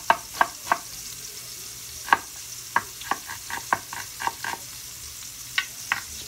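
Tuna frying with fermented black beans in a pan is stirred, the utensil scraping and clicking against the pan in irregular sharp strokes over a soft background sizzle, close and without speech.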